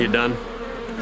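A swarm of bees buzzes steadily close up, a thick continuous drone, while a person briefly speaks over it at the start.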